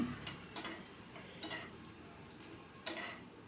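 Ivy gourd (dondakai) frying in a pan with a soft steady sizzle, broken by several sharp spluttering pops and spoon scrapes at irregular intervals.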